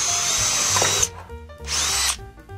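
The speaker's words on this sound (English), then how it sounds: "we've just drilled a 7mm hole at the top of the panelling" A power drill bores a 7mm hole into pallet wood panelling in two loud, close bursts of high whining, each about a second long, separated by a brief quieter pause.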